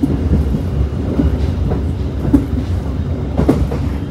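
A passenger train, the Serayu between Bandung and Purwokerto in Indonesia, rumbles steadily along the tracks with faint rhythmic clacks of wheels over rail joints, heard from inside or nearby.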